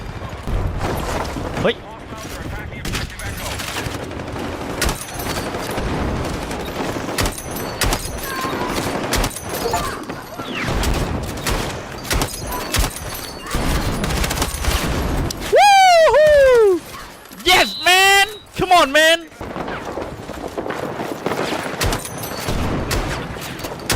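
Bursts of gunfire in the video game Battlefield 6: rapid automatic fire, crackling volleys and booms, loud and close, under excited shouting from a player throughout, with a ringing, whistling passage midway.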